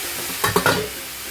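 A few brief scraping stirs of a utensil through potato and eggplant in a pan, with a faint sizzle underneath, then quiet.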